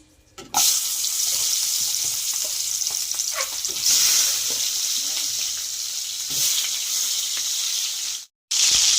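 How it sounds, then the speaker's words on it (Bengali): Hot oil sizzles and crackles steadily as hilsa fish heads fry, a bright continuous hiss with occasional spatters, briefly cutting out near the end. "দেখুন ইলিশ মাছের মাথাগুলো মোটামুটি ভাজা ভাজা হয়ে গেছে।"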